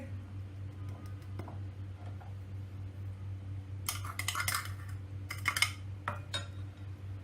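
A spoon clinks and scrapes against a bowl as fruit chaat is mixed with chaat masala and powdered sugar, light metallic taps clustering in the second half over a steady low hum.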